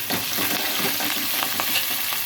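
Curry leaves hit the oil in a pan of fish curry and crackle in a loud, dense sizzle, with small pops and spoon movements throughout.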